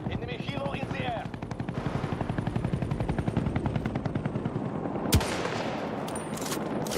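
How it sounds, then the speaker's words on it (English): An enemy helicopter in a military shooter video game gives a steady rhythmic rotor thump across the whole stretch, under bursts of machine-gun and rifle fire and one sharp loud blast near the end. "Enemy helo in the air."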